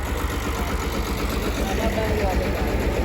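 A tractor engine idles with a steady low, pulsing rumble close by, while voices talk over it.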